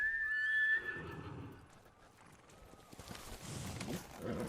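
A horse in the samurai video game Ghost of Tsushima gives a loud, high whinny, followed by softer snorts and the clip-clop of hooves close by.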